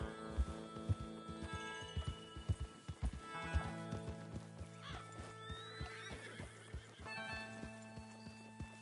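Horses in a video game clip-clop in an uneven rhythm while whinnies and neighs rise over them, with a steady tonal hum underneath.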